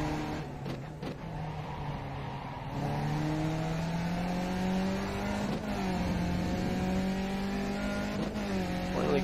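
A race car engine in a racing sim, droning steadily at high revs with repeated upshifts that step the pitch down and climb again, loud and continuous with no talking.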